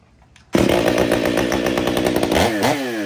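Stihl 500i chainsaw, not recently sharpened, roars to full throttle after a brief quiet moment and cuts steadily at close range, loud and continuous with a slight pitch dip near the end.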